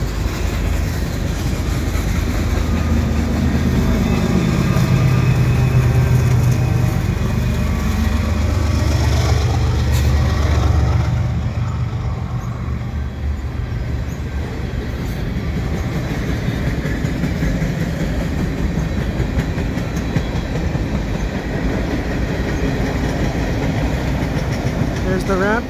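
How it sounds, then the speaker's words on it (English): A CN mixed freight train led by an ES44AC locomotive, with a DPU, rolls beneath the airport access ramps at Dorval, its deep engine rumble and rail noise loud and sustained, then easing somewhat as the cars keep passing. "the trains are going underneath these airport ramps, airport access ramps in Dorval"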